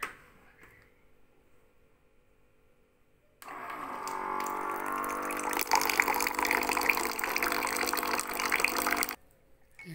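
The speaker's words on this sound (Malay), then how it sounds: "Kita kasih air." Water pours steadily into a container, a continuous gushing stream that starts abruptly after a quiet moment, grows slightly fuller as it fills, then stops suddenly near the end.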